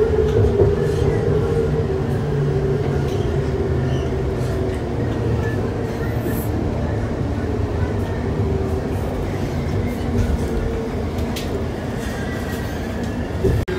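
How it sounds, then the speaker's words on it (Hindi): Train standing at a station platform, a steady low rumble and hum that fills the whole stretch, with faint clicks and distant indistinct voices in the background. "Mind the gap between the train and the platform."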